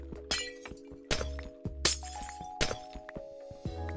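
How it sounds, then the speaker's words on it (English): Several sharp glassy cracks and shattering hits in quick succession as glass blocks are mined in Minecraft, each followed by a short ring, over a steady low hum. "The sound of glass mined. I don't really like it."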